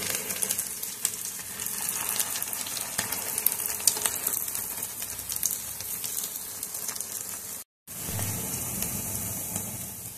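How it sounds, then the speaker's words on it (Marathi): Ragda patties roasting in a pan until crispy give a steady broadband sizzle that holds close and even throughout, with a brief dropout near the end before the frying resumes. "छान खरपूस होईपर्यंत आपण याला भाजून घेऊया."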